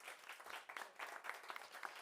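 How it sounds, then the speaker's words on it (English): A crowd applauding steadily, dense clapping from many hands throughout with small swells, fairly close and filling the space. "a round of applause to yourself, please"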